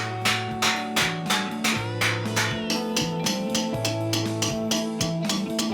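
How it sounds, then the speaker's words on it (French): A jeweller planishes an annealed metal jewellery piece with a hammer, striking it in a steady, evenly spaced series of about fourteen close, ringing metallic blows with no talk. "je vais faire une petite rétreinte et replaner ensuite au marteau"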